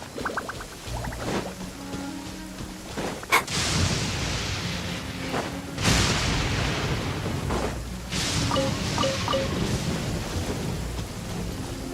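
Steady rain and thunder in the video game Genshin Impact, with several deep booming thunderclaps over a continuous rainfall hiss and some game sound effects mixed in.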